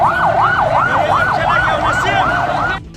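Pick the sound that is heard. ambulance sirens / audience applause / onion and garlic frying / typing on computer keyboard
ambulance sirens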